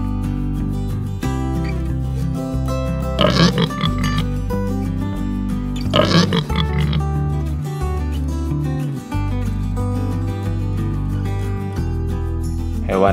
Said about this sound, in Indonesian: Ini namanya babi